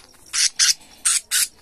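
A colorful pet cage bird calls four times in two quick pairs of loud, sharp, high squawking chirps, close and clear over a quiet background.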